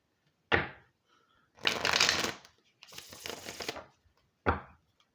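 Tarot cards drawn from a deck, heard as four separate shuffling and sliding bursts: a short snap, two longer rustling draws, then another quick snap, close and crisp with silence between.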